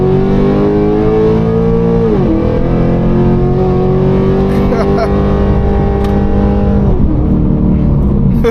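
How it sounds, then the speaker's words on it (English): A tuned Pontiac G8 sedan floored at full throttle after a downshift to second, its engine roaring loud and steady as the revs climb, briefly dip at a shift, then climb again, heard from inside the car. "Let me slow down to 40. Alright, so downshift, third, second, and now I'm just gonna floor it."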